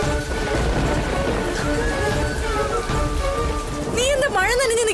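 Steady heavy rain pours down across the whole scene, a dense close wash with faint tonal background music, and a voice rises briefly near the end.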